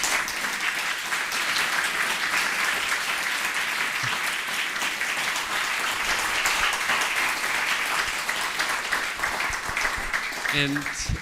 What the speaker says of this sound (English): So warm applause to our two guests, please.